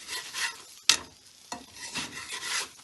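A spinach paratha cooks on a hot pan with a soft, uneven sizzle and rasping rubs, broken by a couple of sharper scrapes, close and fairly quiet.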